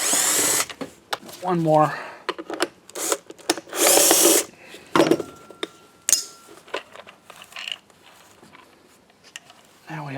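A power drill removes the five screws from a Black and Decker Air Swivel vacuum in short bursts of whirring, with clicks and handling noises in between and someone talking now and then.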